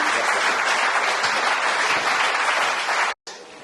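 A room full of people at an evening talk event gives dense, steady applause that fills the space for about three seconds, stops abruptly, then a softer background murmur of the hall continues.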